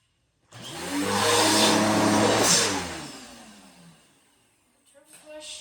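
A Bissell PowerForce Turbo Rewind vacuum cleaner switches on and runs loudly with a rising whine, then winds down and cuts off, followed by a few faint knocks and clicks.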